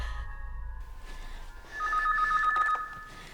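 A telephone rings with a short electronic trill, starting after a brief low rumble and quiet lull and then sounding clearly for about a second before stopping.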